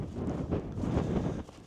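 Wind buffets a microphone on the cliffs of southern England in January, a low gusty rumble that surges and fades in uneven bursts before dropping off near the end.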